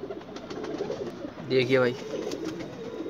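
Kasni pigeons coo in a pen, soft repeated cooing under a man's speech, with one louder, nearer coo rising briefly in the middle.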